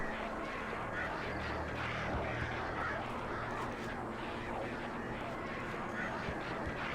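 Hostile possessed birds in the video game Alan Wake swarm with a dense, continuous clamour of honking, cawing cries layered over a steady rumbling game backdrop.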